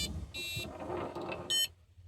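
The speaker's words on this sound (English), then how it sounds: "Plug the battery in and it beeps." A homemade paragliding vario gives two short, thin electronic beeps, faint and spaced apart, over a low background rumble.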